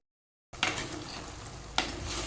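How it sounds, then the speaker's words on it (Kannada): Chicken curry simmering in a pot on the stove gives a steady bubbling, sizzling hiss after a short silence, with a stirring scrape near the start and a sharper clink partway through, close and moderately loud. "ಚಿಕನ್ ಸಾರು ಕುದೀತಾ ಇದೆ"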